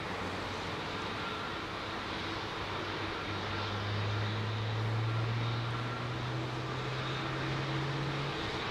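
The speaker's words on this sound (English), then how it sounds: "Korean jumbo." A Korean Air Boeing 747 jumbo jet at Heathrow, its engine roar a broad steady rumble with a low droning tone that swells gradually as the aircraft draws nearer and passes.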